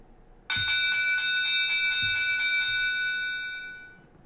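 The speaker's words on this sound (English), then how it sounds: "That was the last bell, guys." School bell ringing in a classroom, a loud metallic electric bell that starts abruptly and rattles continuously for about three and a half seconds before fading out, with a couple of faint low knocks underneath.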